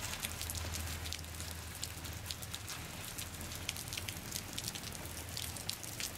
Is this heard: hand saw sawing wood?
no